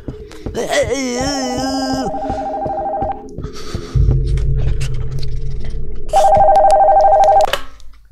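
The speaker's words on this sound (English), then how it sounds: "The phone from upstairs is ringing." A telephone rings in repeated electronic trilling bursts amid other horror game sounds, including a wavering wail and a low rumble, with a voice briefly heard.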